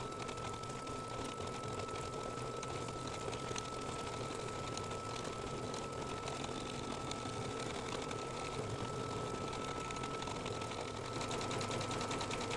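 A sewing machine stitches a star outline on a mug rug, running red thread to seal the edges of mylar, with a steady, close, continuous whirring hum and no talking.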